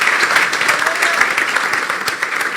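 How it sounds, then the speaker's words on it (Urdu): A church congregation bursts into applause at a Christian worship gathering, a full, steady roar of many clapping hands that holds loud and continuous throughout. "یسوع کے لیے زوردار تالیاں بجا دیں"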